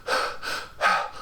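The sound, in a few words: Jason's heavy breathing in Friday the 13th Part VIII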